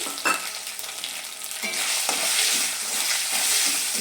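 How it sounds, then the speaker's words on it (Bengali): Chopped green chillies fry in hot oil in a pan for a vegetable dal, producing a continuous bright sizzle with a few stirring scrapes and clicks, close and fairly loud. "এবার আমি এর মধ্যে দিয়ে দিচ্ছি 4টে কাঁচা লঙ্কা কুচি করে রেখেছিলাম, সেটা দিয়ে দিচ্ছি,"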